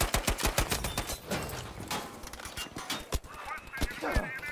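A suppressed M3 Grease Gun fires in Battlefield 5, a quick run of muffled shots at the start followed by scattered single and paired shots, close and punchy, with speech between them.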